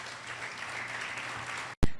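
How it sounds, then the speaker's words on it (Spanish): A congregation applauds at a church Bible study, a steady wash of clapping that carries on, then breaks off abruptly with a brief loud thump at the end. "denle un fuerte aplauso al Señor"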